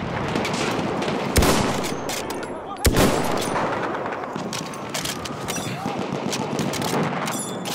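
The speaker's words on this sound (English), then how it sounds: "That's an enemy machine gun." An enemy machine gun in the Battlefield 1 video game rattles out dense, sustained bursts, and two sharp louder blasts cut through the barrage of gunfire.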